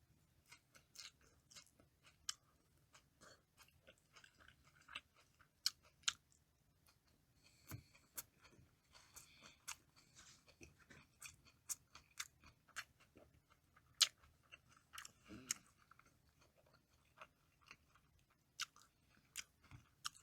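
A person chews food hard during a mukbang, producing sharp, close, irregular crunching and clicking bites with brief pauses, quiet overall and without talking.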